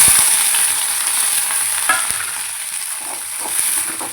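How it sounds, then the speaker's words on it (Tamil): Vadagam, a sun-dried seasoning ball, crackles and sizzles steadily in hot oil in a pan while cooking for perandai kuzhambu, with a few sharp pops over a constant close hiss. "அதை வந்து இந்த வடகம் பொரியுது பாருங்கள்."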